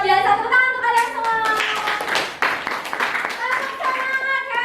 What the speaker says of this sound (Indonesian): Luar biasa, tepuk tangan untuk kalian semua.